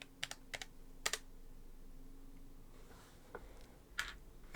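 Short bursts of computer keyboard keystrokes into a serial console on an ESP32-C5 setup, a few quick clusters of clicks with quiet pauses between, close and fairly soft.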